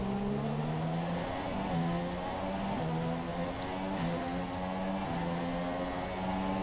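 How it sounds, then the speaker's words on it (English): Helmar 52 race truck engine in a racing video game, a loud continuous roar that rises in pitch through the gears, with brief drops at each shift, heard alone without talk. "we'll be driving the 52 truck, the Helmar 52 truck"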